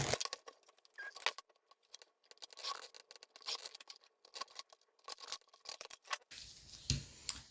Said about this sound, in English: So I'm just going to cut that.